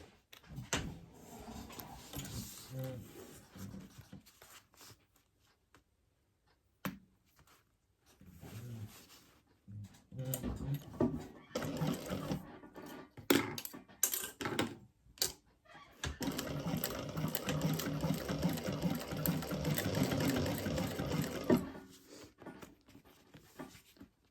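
A sewing machine runs a seam on a crossbody bag, whirring in uneven stretches broken by pauses, clicks and fabric handling, ending in a longer continuous run.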